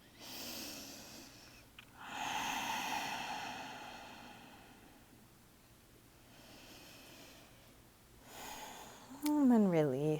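Slow, deep breaths during a prenatal yoga session: long airy inhales and exhales rising and falling close by, with a soft voice in the room and a brief rising tone near the end.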